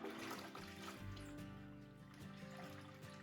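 Water sloshes and trickles faintly in a dye bucket as dish soap is mixed in, a quiet, continuous swirling with no talk.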